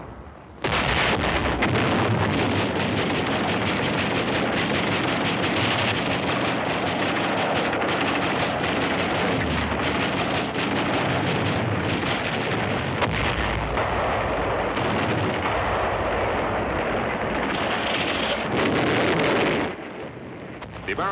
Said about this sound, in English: They begin heavy fire against the beachhead.